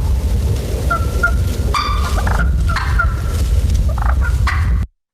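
A hand turkey call imitating a hen's clucks and purrs, loud and close, with sharp clucks mixed into rolling purring notes for several seconds before cutting to silence.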